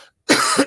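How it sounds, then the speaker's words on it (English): One close, loud cough bursts out after a short silence from someone with a tickly throat who is feeling unwell, followed by a brief second catch of breath. "have to cough now"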